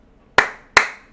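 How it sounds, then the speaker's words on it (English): Two sharp, loud hand claps about 0.4 seconds apart, each a crisp close-up smack with a short decaying tail, alone against near silence. "I will clap if I want to clap"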